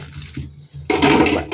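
Water splashes and rushes loudly in the second half as oysters are soaked in water before cooking, after a quieter stretch of low rumble and light handling noise.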